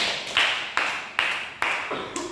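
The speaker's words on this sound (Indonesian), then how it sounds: "kita kasih aplaus untuk kelompok 3" A small group applauds group 3 in a classroom: five or six distinct clap-like bursts in a steady rhythm, close and moderately loud, with no talking.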